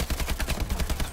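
Rapid automatic gunfire from the shooter game Call of Duty Advanced Warfare rattles out as a fast, even burst of loud, sharp shots in quick succession, with no voices heard.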